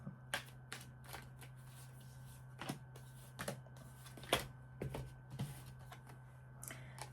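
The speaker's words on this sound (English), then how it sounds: "A couple more shuffles" A deck of tarot cards is shuffled by hand in quiet, scattered riffles and taps, faint and close, spaced across several seconds over a low steady hum.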